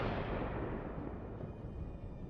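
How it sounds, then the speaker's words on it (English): A tank's stored shells cooking off in a large internal blast after a drone strike, heard as a dense, sustained roaring rumble that stays loud and broadband throughout. "A powerful explosion from the inside leaves only a charred frame of the formidable tank"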